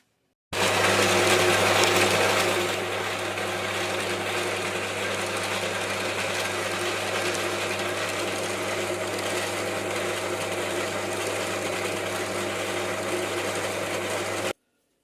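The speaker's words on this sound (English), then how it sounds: "we can chop that with the bandsaw and then take it from there" A repaired bandsaw cuts through a block in a live steam model workshop, a steady high-pitched mechanical whine with a constant low hum, louder for the first couple of seconds and then running evenly and close until it stops.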